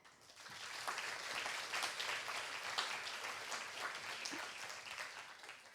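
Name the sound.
audience applause for conference organizers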